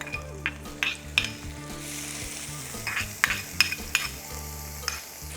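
Kidneys sauté in sieved brown butter in a hot pan while rabbit and vegetables are prepared, giving a steady close sizzle broken by repeated scraping stirs and light clinks of the utensil against the pan.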